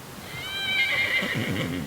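A horse at a ranch corral gives one loud, close whinny, rising and wavering before trailing off into lower snorting tones, with no voices.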